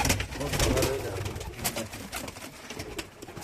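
Adana and homing pigeons coo in soft, throaty murmurs, several birds close together, with rustling and faint background noise.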